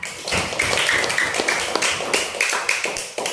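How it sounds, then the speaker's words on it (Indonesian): Pupils in a classroom clap together for a classmate, a brisk burst of many hands applauding steadily, fairly close and loud, with a few children's voices mixed in. "Tepuk tangan untuk Nazwa."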